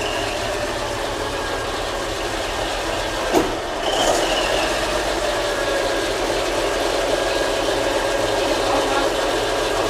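A Mitsubishi truck engine runs after starting, giving a steady, loud rumbling drone with a short knock early on and a slight rise in intensity that then holds even to the end, with faint voices in the background.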